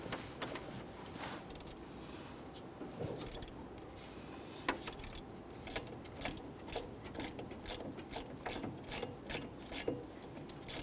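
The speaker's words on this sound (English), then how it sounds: "Now we want to go ahead, loosen and remove this bolt right here for our tensioner. We're using a 15mm socket." A hand ratchet with a 15mm socket loosening the serpentine belt tensioner bolt on a 2006-2010 Hummer H3 3.7L, close rapid clicking in quick bursts that grow more regular toward the end, with no talking.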